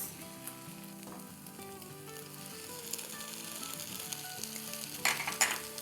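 A sauce mixture with chili garlic sauce sizzles in a pan while it is stirred for lettuce wraps. Soft frying hiss runs under background music, and louder sizzling bursts come near the end.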